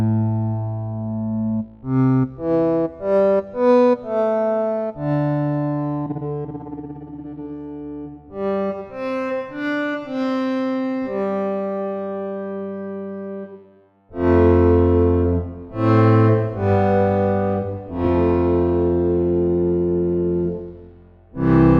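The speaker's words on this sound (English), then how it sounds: "And now you have activated the reverb. You have activated the reverb plugin." An AKAI Advance 49 MIDI keyboard played through a reverb plugin gives bright sustained synth notes and short chordal stabs, each tail ringing out with spacious reverb, loud and alone without talk.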